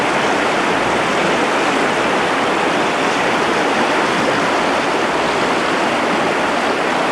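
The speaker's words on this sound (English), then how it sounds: "This is the river running outside the Gourmet Hotel." A river rushes past outside a hotel in Chamonix, a steady broadband roar of fast-flowing water heard close and continuously, with no voices.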